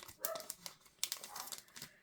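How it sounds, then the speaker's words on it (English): A small dog yips and barks in quick, faint bursts some distance away, mixed with light clattering in an indoor crafting space. "What is he barking at?"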